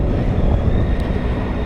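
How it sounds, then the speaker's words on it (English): Triumph Tiger 800 XRX motorcycle on the move, a loud continuous low roar of engine air induction mixed with wind rush, steady and close with no talk. "it's more the air induction noise you can hear."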